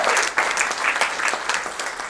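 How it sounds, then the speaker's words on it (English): Wedding guests applauding the couple at a reception, brisk dense clapping from a room full of people, close and lively, with no talk over it. "Claire and Dave, everyone, give them a round of applause."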